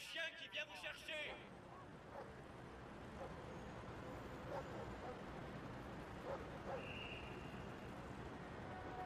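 A police dog barks and yips in a quick flurry of sharp barks at the start, then whimpers faintly over a steady noisy rumble, with a few more distant yelps later.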